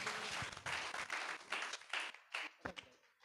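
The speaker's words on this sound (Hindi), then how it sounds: "एक बार जोर से ताली बजा के प्रभु की महिमा करेंगे।" A congregation at a Christian prayer service claps loudly in praise, with a burst of rhythmic clapping that pulses steadily, then thins and fades toward the end.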